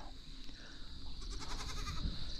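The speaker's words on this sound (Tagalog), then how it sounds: "Ang kambing na mahilig sa pandesal." A goat that likes pandesal bleats in a short, strained call, close and fairly loud over outdoor background noise.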